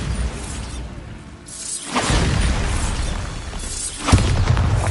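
Bombarda spell explosions in Hogwarts Legacy, with two loud booming bursts at about two and four seconds, each breaking into a crackling, shattering rush over a busy background of game sound.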